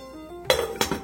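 A metal lid is set down on a pot of simmering coconut milk curry, giving two bright clanking knocks with a short ringing rattle, close and loud over a quiet kitchen hum.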